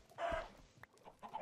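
Minecraft chickens cluck in a short in-game burst, one clear cluck followed by a few softer, quieter clucks nearby.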